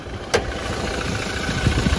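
The engine of a 2016 Toyota Fortuner GX idles in the open engine bay, with a low steady hum, faint irregular ticking and one sharp click near the start, heard close up.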